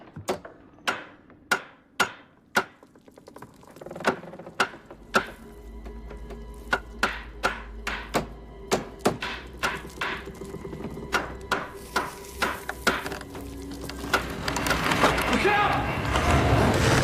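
Wooden mallet hammering a snugly fitting star into place, a series of sharp, close knocks in uneven rhythm, continuing under soft background music and ambient noise.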